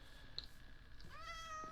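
A cat in the Minecraft video game meows in short, clear calls, one brief chirp followed by a longer rising meow, alone against a quiet background.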